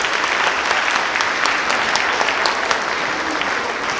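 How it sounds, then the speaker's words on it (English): A holiday bake-off audience claps loudly and continuously, a dense, even wash of many hands with no voices standing out. "Let's give everybody a round of applause."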